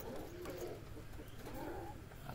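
A racing pigeon coos softly in low repeated notes against a steady background hum.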